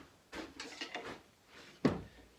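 A wooden drawer of a repurposed desk is handled nearby, with a few scraping slides and knocks followed by one sharper wooden bump.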